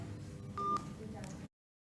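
A phone being dialed during a news broadcast, a short series of faint keypad tones and beeps over low background murmur, then cut to silence.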